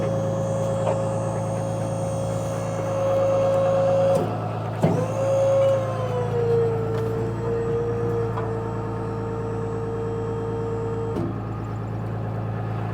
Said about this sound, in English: you simply push the button and it'll lower those jacks down and raise the trailer up off the truck